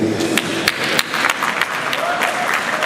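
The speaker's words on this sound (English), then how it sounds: "stand up and clap for your parents who decided to send you here" Audience applause at a 2019 secondary-school graduation ceremony honouring the parents: dense, steady clapping from a large crowd throughout, with a few sharper individual claps standing out.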